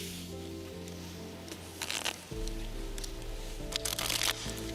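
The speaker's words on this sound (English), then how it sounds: "just give him a riffle shuffle." A deck of playing cards is riffle shuffled at a magic show, with short crisp bursts of fluttering card edges over a steady musical backing.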